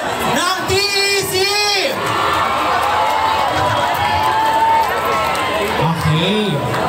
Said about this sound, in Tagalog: narinig na po ng mga judges, ang mga hiyawan